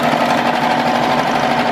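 A serger sewing machine stitching a T-shirt neckband runs loud and close with a fast, even mechanical hum and buzz, holding steady throughout the short burst.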